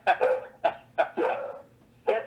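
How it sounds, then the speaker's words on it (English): A pet dog barks in the background during an online village council meeting, four or five loud, close, sharp barks in uneven bursts with short gaps between. "That's my dog in the background."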